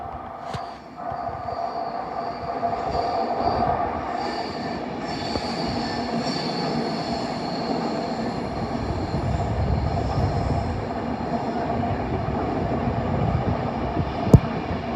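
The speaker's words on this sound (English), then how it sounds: "1723 Avanti West Coast service to Birmingham New Street." Avanti West Coast train passing Primrose Hill, London: a steady, loud rumble and rail roar sustained throughout, with wheel squeal, clatter over joints and a sharp click near the end.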